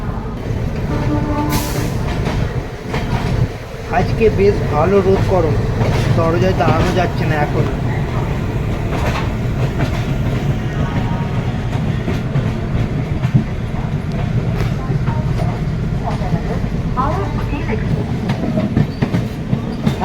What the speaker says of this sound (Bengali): ফাইনালি হাওড়া স্টেশন থেকে ট্রেন ছেড়ে ধীরে ধীরে ট্র্যাক চেঞ্জ করে এগিয়ে চলেছে